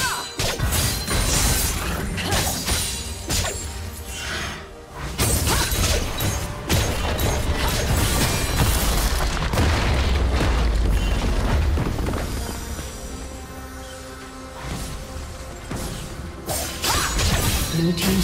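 A turret crumbling in League of Legends during a Fiora versus Aatrox top-lane match, with loud crashing, booming impacts and whooshes layered over busy game effects, dipping briefly before a sustained burst of destruction.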